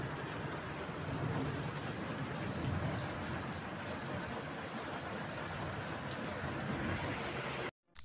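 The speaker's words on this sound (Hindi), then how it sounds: "कितनी ज्यादा बारिश हो रही है" Heavy rain pours down steadily in a dense, constant roar, close and loud, with a brief drop-out near the end.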